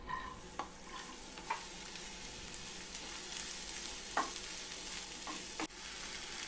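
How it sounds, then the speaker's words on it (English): Finely chopped onion sautés in hot oil in a pan for stuffed brinjal, a soft continuous sizzle broken by several scattered spatula scrapes and taps, fairly quiet with no speech. "Heat 2 teaspoons of oil in the same pan and add 1½ cups of finely chopped onion."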